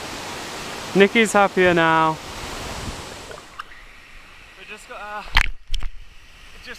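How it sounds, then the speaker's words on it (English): Continuous rushing water from Miller Falls in the Whitsundays, Australia, roars in the background while a person speaks briefly, then the water fades lower as more voices chatter. "We just got our own private waterfall."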